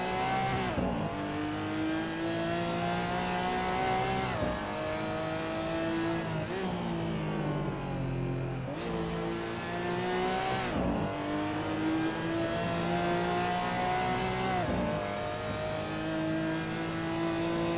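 Racing car engine in the video game Project Cars 2, revving hard through repeated gear changes: each climb in pitch cuts off and starts again, a loud, continuous drone with almost no talk.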